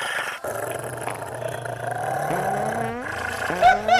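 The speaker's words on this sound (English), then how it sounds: "Dog's too loud" A dog's growling, roaring bark erupts loud and close, rising in pitch with sharp yelps near the end, played as a sound effect in a comedy sketch set in heaven.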